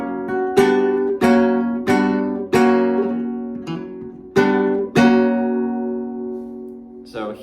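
A flamenco guitar phrase, played as a series of plucked and strummed chords and single notes with ringing sustain, close and fairly loud, ending in a short scrape of movement.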